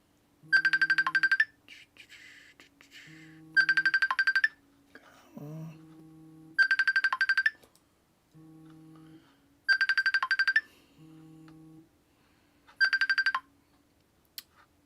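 An incoming-call ringtone repeats five times in chirpy electronic bursts roughly every three seconds, with quieter tones between the rings, fairly near and clear.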